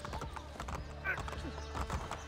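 Hooves clop in a quick rhythm with a brief horse whinny, set in an Assassin's Creed Brotherhood game soundscape with voices underneath.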